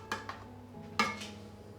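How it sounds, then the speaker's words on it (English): Metal kitchen tongs pressing small beef meatballs onto baked tagliatelle nests in a dish, giving two quick light clinks and then one sharper clack, close and quiet with no talking. "I'll put them on top of each of the nests and press it down with my tongs."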